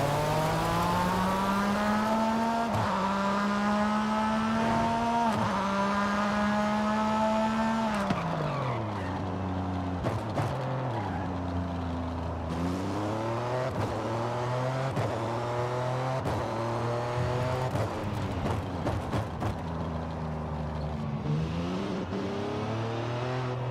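A race car engine in Forza Horizon 5 roars continuously, revving up and dropping through gear shifts with rising and falling pitch, loud and mechanical with no talking.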